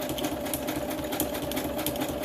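A sewing machine stitches a paper collage, its needle chattering in a fast, even rhythm that runs steadily and close with no pauses.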